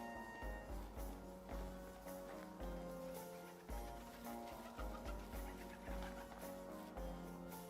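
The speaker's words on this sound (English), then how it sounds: "Sounds like those pigeons were fighting." Farm birds in the medieval village of the game Medieval Dynasty squabble in repeated bursts of flapping and clucking calls, moderately close, over a steady musical background score.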